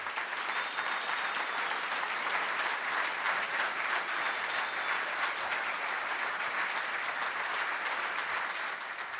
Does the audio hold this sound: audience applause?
yes